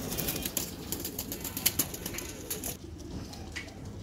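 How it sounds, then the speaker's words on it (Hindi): Madrasi pigeons in a loft giving soft, low cooing over a quiet background, with brief flutters of wings, heard from nearby and fairly faint. "जितने भी कबूतर आप देख रहे हैं, नया क्वालिटी के कबूतर देख रहे हैं आप"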